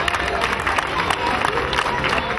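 A crowd applauds the Algeria team at a suburban youth football tournament's eighth-place medal ceremony, with steady dense clapping, scattered cheers and background chatter throughout.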